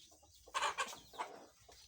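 Young chickens about a month and a half old cluck inside a coop, a couple of short, close bursts of clucking with quieter gaps between, no talking.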